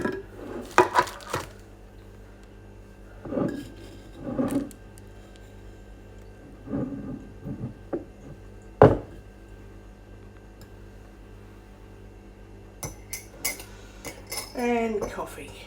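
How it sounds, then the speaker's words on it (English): Spoon clinking against a cup and dishes while coffee with a teaspoon of sugar is made, several separate metallic taps and clatters spread across the stretch, with a quiet room between them and no talking. "so I'm going to get a spoon of sugar. Just 1 teaspoon of sugar"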